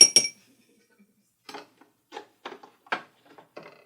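A stirrer clinks in a glass of Tanqueray No. 10 gin mixed with juice: one bright clink, a pause, then a string of lighter irregular taps and scrapes, close and otherwise quiet.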